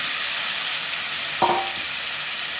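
Marinated chicken pieces sizzle steadily in a pan of hot oil for chicken curry, a loud continuous hiss with one brief clatter partway through as the pieces are stirred.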